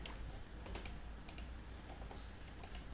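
Typing on a computer keyboard while working in CorelDRAW, with quick irregular key clicks scattered over a steady background hiss and no voice.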